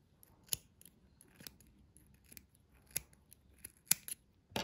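Scissors cut yarn loops on a handmade shaggy rug, making a few quiet, crisp snips spaced irregularly over soft background hush.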